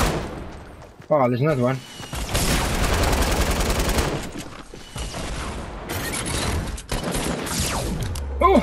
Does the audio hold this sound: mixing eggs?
no